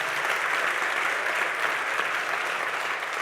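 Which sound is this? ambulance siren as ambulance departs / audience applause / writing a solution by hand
audience applause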